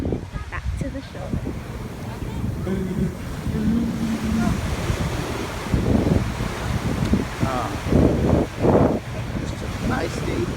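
Surf and wind on the beach at Coney Island on a busy day, a steady wash of waves with gusty microphone wind, and people talking over it.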